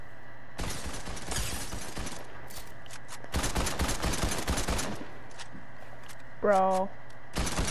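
Automatic gunfire from a weapon in Fortnite, rattling off in several sustained bursts separated by short pauses, loud and close, with a brief voice speaking between bursts.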